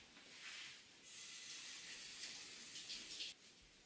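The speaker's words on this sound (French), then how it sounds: "on va aller se laver les mains avant" A kitchen tap runs steadily for hand washing, a soft continuous hiss of flowing water with slight splashing changes, fairly quiet and with no talk.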